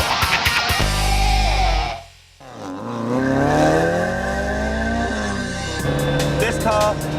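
A stock race-prepped car, fitted only with new springs and dampers, revs loudly up through the gears, engine note rising and falling with a brief lift-off, tyres scrabbling and squealing close by.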